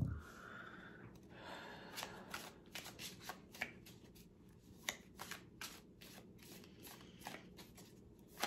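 Tarot cards are shuffled close to the microphone in a quiet room, making a soft, continuous riffle of card slaps and flicks with light, irregular taps and no talking.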